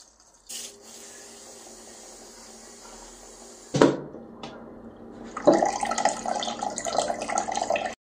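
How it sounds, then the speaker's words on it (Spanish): Filtered water is poured into a paludarium, a soft steady trickle at first, then a sharp knock and a louder, rougher splashing rush that builds toward the end. "Para llenar este paludario estoy utilizando agua filtrada."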